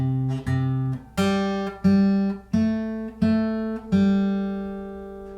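Guitar notes plucked one at a time on single strings, including an open G, about eight clear ringing notes in a steady, moderately paced sequence, each attack sharp and decaying, played alone with no talking.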